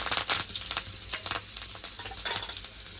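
Fish fries in hot oil with curry leaves, giving a bright, crackling sizzle with irregular spatters and stirring scrapes, close and fairly loud throughout.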